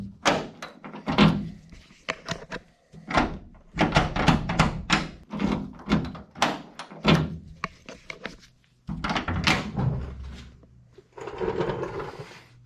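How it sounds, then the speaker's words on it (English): Door lock on a Chevrolet C10 pickup truck being repeatedly locked and unlocked with a key, a steady series of sharp mechanical clicks and thunks close by, with some brief talk in between. "We now finally have a working door and lock with some keys."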